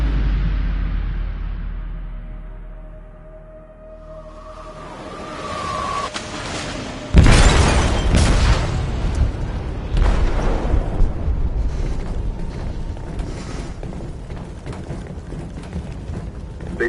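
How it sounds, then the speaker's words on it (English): A loud explosion tears through a ship's hold in Detroit: Become Human, a sudden heavy blast that rumbles on into sustained roaring debris and crashing noise after a quieter, building lead-in. "They detonated an explosive in the hold"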